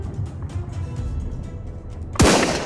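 A single bolt-action rifle shot in the VR shooter Cactus Cowboy Plants at War cracks out near the end, sharp and loud, after a stretch of low game ambience.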